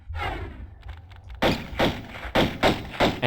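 Lara's pistols in Tomb Raider I Remastered fire repeatedly at a dead bat in the Peru caves level, a quick, steady string of punchy game gunshots with a brief echoing tail on each.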